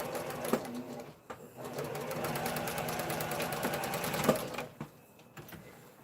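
A sewing machine top-stitches the curved seam of a no-touch face mask in a close, running whir that briefly pauses near the start and again near the end, with a few small clicks and no voices.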